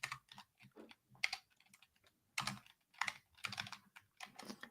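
Typing on a computer keyboard to enter a search for rooibos chai tea: bursts of close, clicky keystrokes in quick irregular runs separated by short pauses, with no voice over it.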